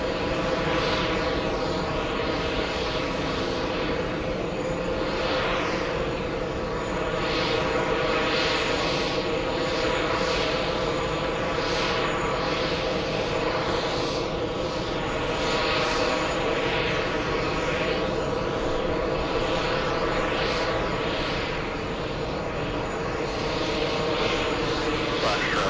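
A Boeing Dreamliner airliner arriving from Auckland, New Zealand at JFK airport, its steady loud jet roar continuous throughout with a faint voice underneath.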